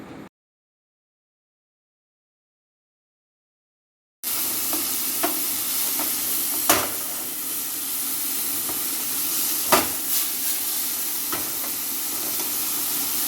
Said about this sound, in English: saute till mushroom is golden brown and tenderness